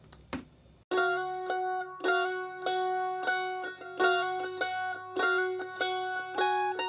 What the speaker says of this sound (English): I went ahead and added a mandolin, which sounds like this